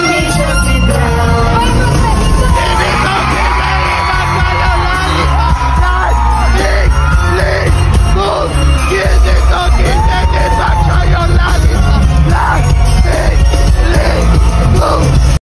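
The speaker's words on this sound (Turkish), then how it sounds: "Yani fan o kadar bağırmış ki üyeler de eminim fark etmiştir" Fan at a concert yelling along loudly with the song, a strained shouted voice riding over dense crowd noise, whoops and amplified music throughout.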